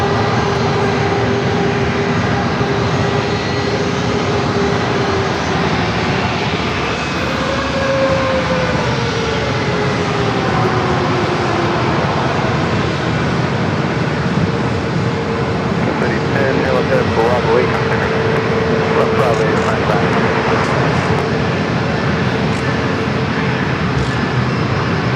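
An aircraft flies over at San Diego airport during an air show, its engine drone steady and fairly loud throughout, with shifting tonal whine, while people talk nearby.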